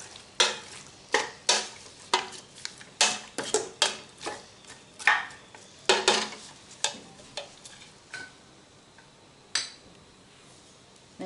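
Coriander, parsley and cinnamon being stirred and fried in a pot: a repeated rhythm of scraping strokes with light clinks over a soft background sizzle, close and steady, with no talking.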